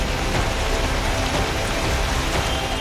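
Heavy monsoon rain pours down in Mumbai as a dense, loud, continuous roar of drops hitting surfaces, with no voices heard.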